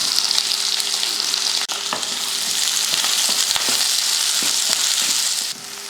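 Onion, garlic and green chilli fry in hot oil after mustard seeds and urad dal have popped, giving a loud, steady sizzle close up with small crackles and occasional stirring taps, no voices.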